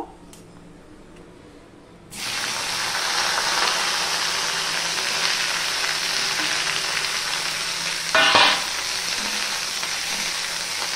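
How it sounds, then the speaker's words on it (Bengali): Cut okra drops into hot oil over a high gas flame and sets off a sudden loud, broad sizzle that holds steady. A short burst of bubbling crackle comes later, close to the pan, with no talking. "তেলটা গরম হয়ে গেছে, এবার আমি ভেন্ডিগুলো সবার প্রথমে ভেজে নেব।"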